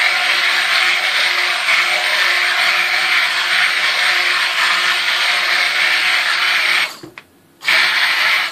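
A blender whirs steadily and loudly through hot soap batter made from freshly mixed lye and melted oils, mixing it toward trace, with a brief cut-off near the end before the motor starts again.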